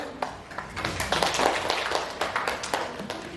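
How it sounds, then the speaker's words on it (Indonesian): Group clapping and applause in a classroom-style session, a few seconds of dense, uneven hand claps at steady loudness. "Oke, tepuk tangan dulu."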